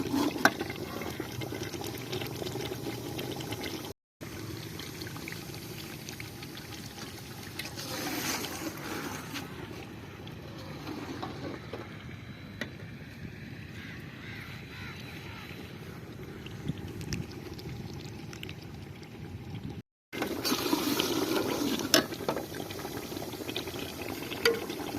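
Chicken roasting in a pot for a traditional Layyah dish, giving a steady sizzling, bubbling hiss that runs continuously at moderate level and breaks off briefly twice, with no talk over it.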